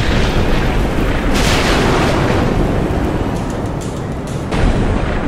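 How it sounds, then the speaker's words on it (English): In the God of War video game, the sky splits open as Ares descends: a dense, continuous roaring boom with rumbling low end and crackling bursts layered on top, loud and sustained throughout. "The sky split apart, and the god of war stepped through."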